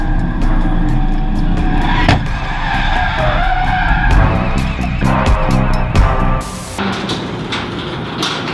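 Loud tires screech and skid continuously on a rain-wet track while a race car engine roars, with brief knocks and a sharp burst near the end as it spins.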